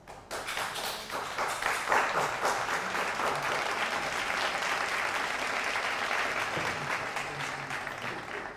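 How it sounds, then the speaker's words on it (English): Sustained applause from a lecture audience fills the hall, dense clapping holding steady throughout before tapering slightly at the end. "Can we have an applause?"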